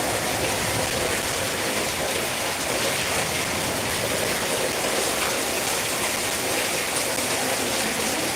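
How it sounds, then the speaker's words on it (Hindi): Heavy rain pours in a steady, dense hiss that stays loud and unbroken throughout, with no voices. "बारिश बहुत तेज हो रहा है"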